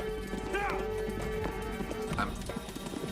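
A horse gallops with quick, rhythmic hoofbeats and a brief whinny, set within a dramatic scene from the series Firefly, heard under people talking.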